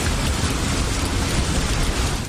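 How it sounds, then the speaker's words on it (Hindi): Heavy monsoon rain pours steadily onto city streets, a loud, dense, continuous hiss of falling water with no voices over it. "फिर आए काले बादल, फिर बरसे छमाछम।"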